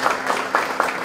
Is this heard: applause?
yes